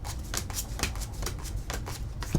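Tarot cards are shuffled by hand in quick riffling bursts, close and clear, with soft papery slaps repeating over a couple of seconds and no speech.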